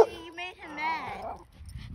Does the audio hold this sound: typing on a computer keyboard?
no